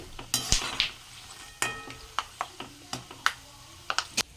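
Peanuts fried in a pan for a flattened-rice mixture, with a faint sizzle under a series of sharp metallic scrapes and clinks of a spoon stirring against the pan, irregular and close.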